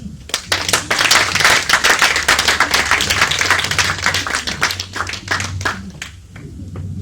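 A church congregation claps together in praise, dense rhythmic applause that is loud and close, with many hands beating fast and steady before thinning out near the end.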